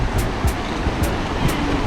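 Water rushes steadily far below a walkway in Sapadere Canyon, Türkiye, a broad continuous roar with faint bursts of hiss that come and go over it.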